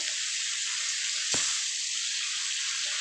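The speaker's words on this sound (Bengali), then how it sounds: "প্রচণ্ড জোরে জোরে ফাটছে মাছগুলো" Bata fish frying in hot oil, a loud continuous sizzle with one sharp spatter pop near the middle, heard close and alone.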